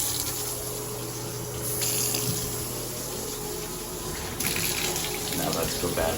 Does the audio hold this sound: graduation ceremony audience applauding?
no